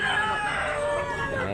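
Zamboanga White roosters crow nearby, long drawn-out calls overlapping against a steady background din.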